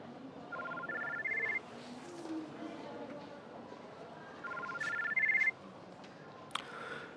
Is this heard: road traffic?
no